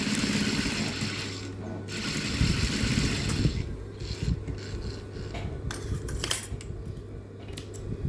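A sewing machine stitches a fold on fabric for a shaping girdle, with a steady mechanical whirring and rattling of the needle mechanism, pausing and restarting, close and moderately loud with no talking.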